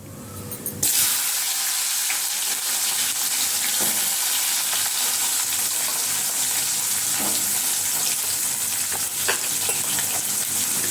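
Onions sauté in a hot pan for a crab masala gravy, giving a continuous loud sizzle and crackle, with occasional stirring scrapes throughout.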